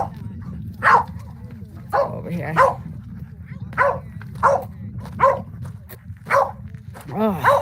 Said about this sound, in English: I can't take a barking dog constantly.